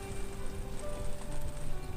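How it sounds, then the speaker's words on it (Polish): Steady rain falls on a cold, dark evening in Spain, a continuous broadband hiss of drops on surfaces with no talk over it. "Deszcz pada."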